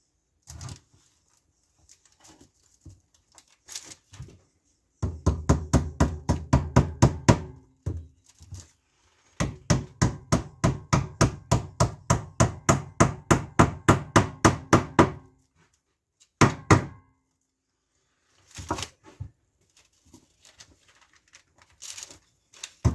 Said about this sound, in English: Try not to put the hammer through the frame.